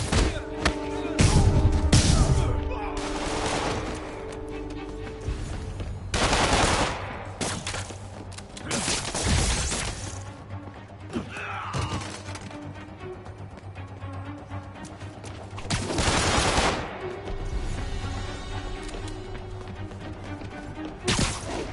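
Enemies firing guns in a Spider-Man video game, with repeated bursts of gunfire and sharp impacts scattered across the scene, some dense volleys and quieter gaps between them, with game voices mixed in.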